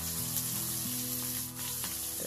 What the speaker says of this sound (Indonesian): Terus kemudian kita goreng sampai layu saja ya.